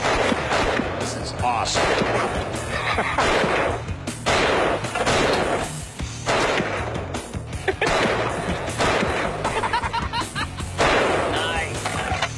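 Gunfire from a Vir Bandook, the first gun made in Nepal, sounds as a rapid series of loud, close, sharp reports that run through the whole stretch, with a voice speaking briefly over them.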